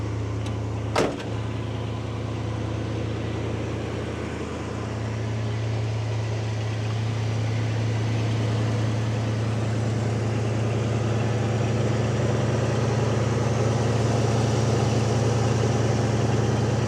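1986 Oldsmobile Cutlass 442 with a 307 V8 starting with a short crank, then settling into a steady, low rumbling idle that holds evenly and fairly loud throughout.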